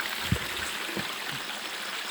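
Creek water flows steadily in a broad, constant rush with a couple of faint low gurgles, heard outdoors with no talking.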